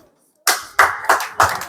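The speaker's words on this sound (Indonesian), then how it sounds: "Oke, tepuk tangan." Four separate, loud hand claps in a slow, even rhythm after a short silence, from an audience or group gathered at a close-range event.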